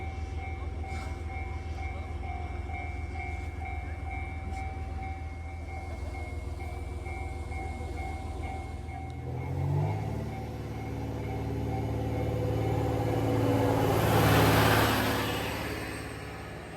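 A train rolls into Koboro Station, a remote Hokkaido station between mountains and sea, in midwinter, with a steady rumble and faint tonal hum, then brakes screech loudly as it slows to a stop nearby.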